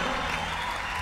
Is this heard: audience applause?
yes